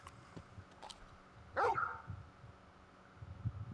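Large dog companion in the video game Final Fantasy XVI giving a single short bark at mid-distance, over quiet game ambience.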